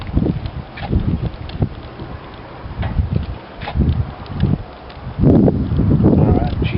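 Strong outdoor wind buffeting the microphone in loud, uneven gusts, with someone talking over the rumble.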